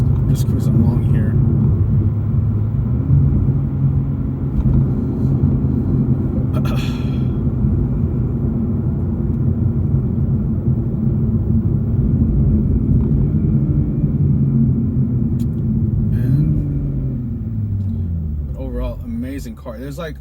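Inside a Toyota Supra cruising on the road, a steady low engine and road drone fills the cabin, rising briefly in pitch near the end, with someone speaking over it at times.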